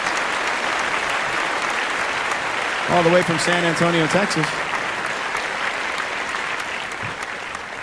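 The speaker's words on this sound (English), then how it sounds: "How about a big round of applause for Jeremy?" Sustained audience applause for a saxophonist at a shipboard show on a cruise ship, broad and steady throughout, with a voice speaking over it midway.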